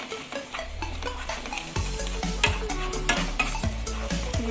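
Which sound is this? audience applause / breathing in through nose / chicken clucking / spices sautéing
spices sautéing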